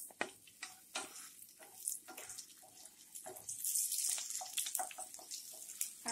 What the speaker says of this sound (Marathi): म्हणजे सर्वप्रथम आपण कांदा परतवून घेऊया।